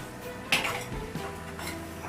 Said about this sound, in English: you want to get your tray with your hot oil in, carefully out of the oven